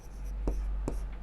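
A pen scratches on paper while a math solution is handwritten, giving two or three short, close strokes against a faint steady hum.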